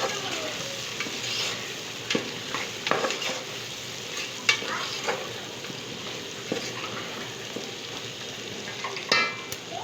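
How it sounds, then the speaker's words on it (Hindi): Garlic and ginger fry in a pan for a masala fish curry, a steady close sizzle with stirring scrapes and occasional utensil knocks throughout. "लहसुन एंड अदरक। इसी को डाल के एंड इसी को आपको थोड़ा सा भूनना है।"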